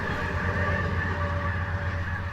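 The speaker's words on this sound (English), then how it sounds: "I did have to wait for a train to go by" A train rumbles past close by in a steady, loud roar with a low mechanical drone and faint high squealing from the rails, no pauses.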